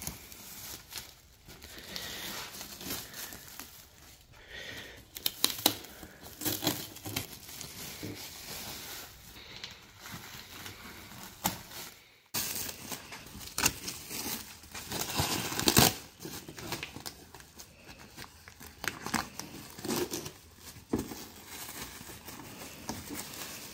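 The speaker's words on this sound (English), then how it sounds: "And now we get to do the fun part of unwrapping it." A new part for a Grand Sport Corvette is unwrapped from its packaging: intermittent crinkling, tearing and rustling close by, in uneven bursts with short pauses, and no speech.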